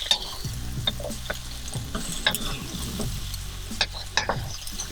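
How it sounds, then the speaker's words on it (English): Sliced Napa cabbage stir-fries for fried rice, hissing and sizzling steadily in a hot pan while a utensil scrapes and clicks through it at close range. No one speaks. "Now I'm going to add my Napa cabbage in."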